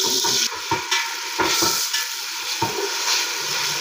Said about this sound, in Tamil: இஞ்சி பூண்டு பேஸ்ட் கொஞ்சம் நல்லா வதங்கணும்